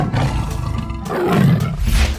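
A tiger roars in a children's cartoon about wild animals, a loud, continuous, rumbling growl that fills the whole short stretch on its own.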